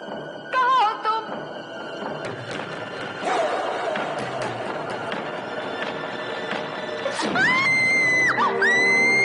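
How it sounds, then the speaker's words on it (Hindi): A woman screams loudly in a television horror serial scene, with sharp high cries at the start and the end of an echoing, noisy stretch with some thumps. "तुम भी कमाल का चीखती हो"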